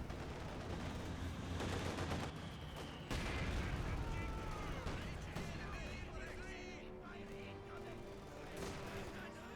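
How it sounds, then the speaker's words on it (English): Artillery barrage in the World War II strategy game Company of Heroes 2, with dense, continuous rumbling explosions and gunfire under steady commentary from someone speaking throughout. "There's a warfare barrage in the general area"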